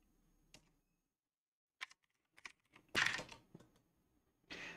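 A handful of sparse clicks and short bursts of keys on a computer keyboard as a terminal command is typed, including a louder cluster near the middle and a final burst, close and quiet with no talking.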